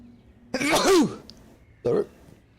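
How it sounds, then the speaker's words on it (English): A single sharp sneeze bursts out close to the mic during a live Dragon Age: The Veilguard play session, followed about a second later by a shorter second burst, with quiet game ambience underneath. "I sneezed."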